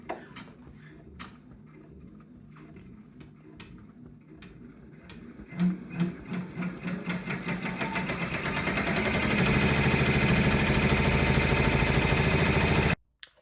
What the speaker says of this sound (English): So now I will go sewing. And let's do the outline first.